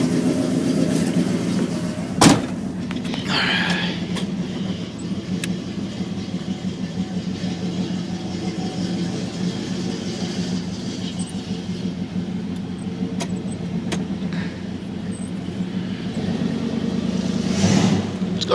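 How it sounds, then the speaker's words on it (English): An Oldsmobile Cutlass convertible engine idling a bit high, heard as a steady mid-pitched hum throughout with a sharp clunk early on and a slight swell near the end. "Idle's a little high, it sounds."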